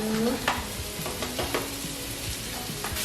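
Mushrooms frying in extra virgin olive oil in a pan over medium heat, a steady close sizzle with a few sharp scraping stirs and clicks throughout.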